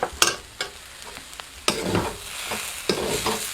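Green chillies fry with ginger and garlic in a pan. A spatula gives several sharp scrapes and knocks over a sizzle that swells louder partway through, with no voices.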